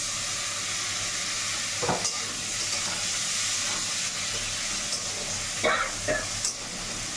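Chopped tomatoes hit hot oil in a pan while cooking a minced-meat curry, giving a steady close sizzle and hiss broken by a few sharp stirring scrapes.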